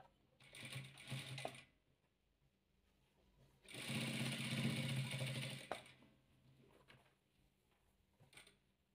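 A sewing machine stitching patchwork velour fabric, running in two bursts, a short one and then a longer steady whir of about two seconds, with quiet handling clicks and rustles in between; close and fairly faint.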